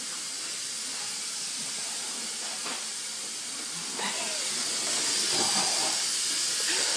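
Tap water runs into a kitchen sink during dishwashing, a steady close hiss that swells slightly toward the end, with faint voices in the background.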